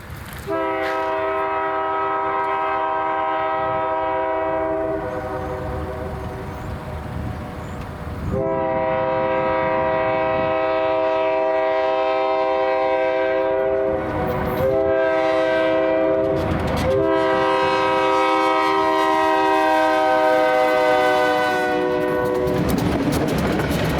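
Ohio Central freight train led by B23-7R diesel locomotives sounds its horn in long repeated blasts at a road crossing, loud and close, with engine rumble and rolling wheels underneath throughout.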